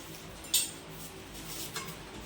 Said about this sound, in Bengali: এবার তরকারি দিই, ওই সেই চামচ।